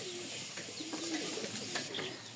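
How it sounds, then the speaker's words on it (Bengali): A pair of yellow-eyed pigeons coo in soft, repeated low throaty phrases that stay fairly close and steady against a light background hiss. "এই হচ্ছে কবুতর জোড়াটা"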